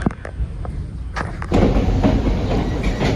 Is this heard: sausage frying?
no